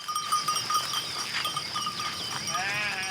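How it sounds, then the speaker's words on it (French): A flock of about 80 dairy ewes is guided up to a new hillside pasture, with scattered bleats and a wavering bleat near the end over a busy outdoor background. "Virginie rejoint son mari Olivier pour guider leurs 80 brebis sur une nouvelle parcelle dans les hauteurs"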